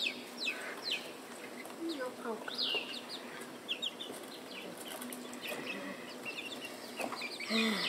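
Chickens cluck and squawk busily while being moved from one place to another, with scattered wing flaps and a person's voice talking now and then among the birds.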